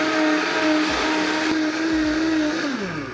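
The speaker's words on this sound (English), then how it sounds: "Back into the blender we go, and we blend on high for 1 minute" Kitchen blender running on high, pureeing a tomato cashew sauce for butter chicken; a steady loud whirring drone with shifting pitch as the contents churn, no voices.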